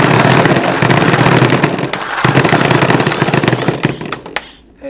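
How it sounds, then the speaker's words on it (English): Rapid, dense rattling clatter of paintballs being fed through an Empire Halo Too paintball hopper while it is tapped, loud and continuous for several seconds before cutting off. "I'm just going to keep tapping."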